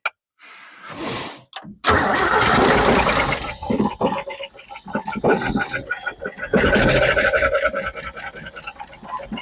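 A 1964 Chevy Biscayne, parked for 31 years, cranks briefly, then catches and fires into a loud, rough, roaring idle that runs steadily to the end with uneven surges.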